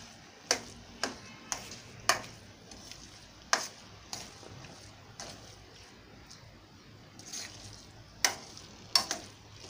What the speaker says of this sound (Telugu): అలా గరిటె పెట్టి తిప్పుతూ ఉండాలి సిమ్లో పెట్టి